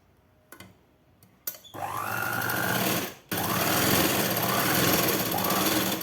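Sewing machine stitching the folded edge of a 42-inch blouse, running in two long loud steady bursts with a brief pause between, after a few light clicks of handling the fabric.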